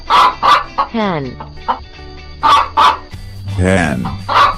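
A hen clucks in short repeated bursts, close and fairly loud, with a voice speaking between the calls.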